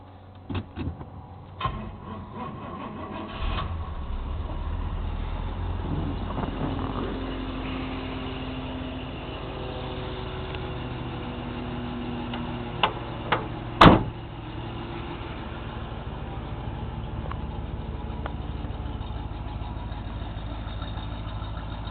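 A 1969 Pontiac Bonneville with dual mufflers cranks and starts, then settles into a steady, fairly quiet idle, with a couple of sharp clicks or knocks partway through.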